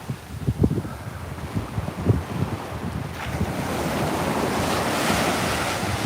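Ocean waves break on the shore at Coney Island beach, a loud continuous roar of surf that swells in the second half, with wind noise buffeting the microphone.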